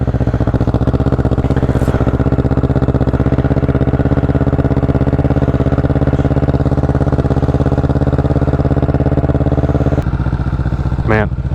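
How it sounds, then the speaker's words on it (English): A 650cc motorcycle engine idling steadily after a cold start, a loud, close, even mechanical thrum that runs throughout, with a short revving change near the end. "Let's get that cold start for you guys. Oh, starts right up, man."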